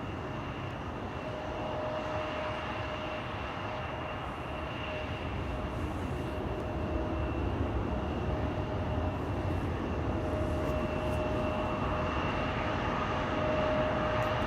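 Distant, steady jet-engine roar of a Delta A350 airliner taxiing toward runway 24 at Schiphol Airport, a continuous low rumble with a faint whine that swells slightly toward the end.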